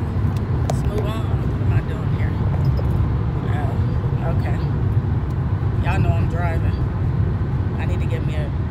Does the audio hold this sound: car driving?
yes